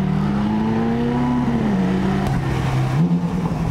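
Ferrari engine revving as the car drives past, a loud continuous roar whose pitch climbs, dips and swells again, close by, with no talk.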